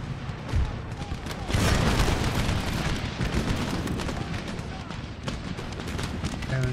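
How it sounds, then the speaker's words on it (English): Cannon fire rolls through an Empire: Total War battle as a dense, continuous barrage of booms and crackling shots, with one louder burst partway through, all heard alone without talk. "Cannon shots."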